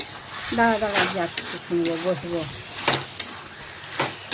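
Chicken with red chilli powder and spices being stirred in a pan: scraping, sizzling stirring strokes in short bursts, with someone talking over them throughout.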